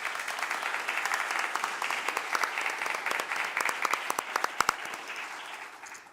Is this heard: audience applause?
yes